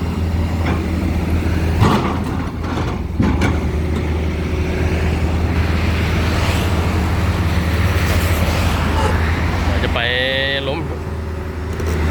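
Long trailer trucks pass on a busy road in a continuous loud roar of heavy traffic, with a brief tonal squeal near the end and someone talking over the noise.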